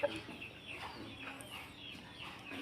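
A rooster on a village farm gives soft, scattered clucks, faint and fairly distant against a steady outdoor background hiss, with no one speaking.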